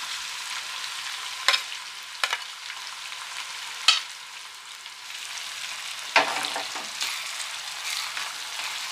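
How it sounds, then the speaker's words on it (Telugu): Chopped onions and green chillies fry in plenty of oil with a constant close sizzle, while a spoon scrapes and stirs the pan in several sharp strokes, alone without talk. "ఇది గోల్డెన్ బ్రౌన్ వచ్చే వరకు ఫ్రై చేయండి."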